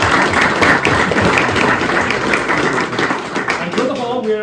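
Audience applause at a community night panel discussion, a few seconds of brisk clapping mixed with voices, thinning out at the end.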